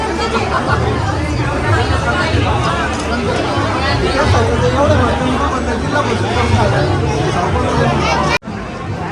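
A dense crowd of pilgrims at Shirdi fills the air with continuous overlapping chatter, a loud unbroken babble of many voices that cuts off briefly near the end.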